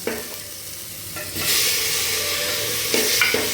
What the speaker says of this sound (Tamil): இப்போ நல்லா வெங்காயம் வதங்கிடுச்சு இப்போ தக்காளி போட்டுக்கலாம்